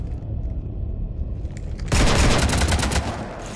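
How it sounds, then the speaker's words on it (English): Rapid gunfire in the sci-fi shooter Mass Effect 3 bursts in loudly about halfway through as a dense, sustained volley over a low rumbling background, continuing to the end. "You want to stop shooting up my ship?"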